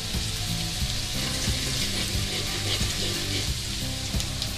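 Chopped garlic sizzles and fries steadily in hot oil in a pan for chicken fried rice, a continuous close crackle with occasional stirring clatter and no talk.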